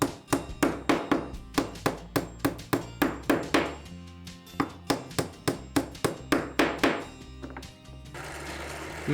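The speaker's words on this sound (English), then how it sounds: "We can now glue and nail the sides onto the base." A hammer drives nails into the glued wooden sides of a small box's base, striking in quick regular runs of sharp close blows with brief pauses between sets.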